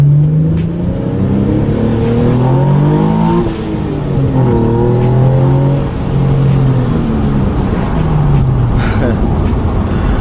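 Hyundai Genesis Coupe exhaust rumbling and revving up and down repeatedly, loud and close, with a steady low drone and rising and falling pitch, no talking.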